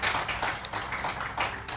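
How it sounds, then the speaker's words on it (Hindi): A studio audience on a morning talk show claps for a guest, brisk moderately loud applause with slight swells and no speech. "शम्स साहब के लिए बहुत सही तालियां."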